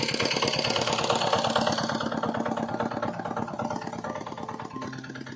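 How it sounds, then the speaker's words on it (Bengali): A motor-driven water pump runs steadily as it draws water from a pond to irrigate a dry field. The engine drone is loud and continuous, with a rhythmic chug, and it eases slightly toward the end. "মেশিন দিয়ে জল উঠাচ্ছে পুকুর থেকে"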